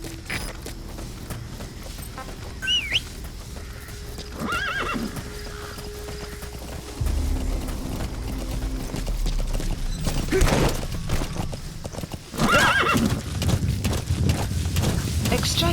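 Hoofbeats clip-clop along with a horse neighing in the game Metal Gear Solid V, set against game ambience and mechanical sounds, with a voice speaking partway through.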